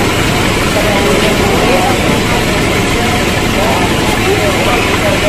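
Motorcycle engine idling nearby, a steady loud rumble running continuously throughout, with people talking underneath.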